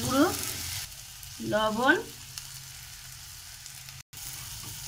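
Tomato with turmeric, chili powder and ginger paste sautés in a pan, giving a low steady sizzle beneath two short bursts of a voice, then a brief dropout.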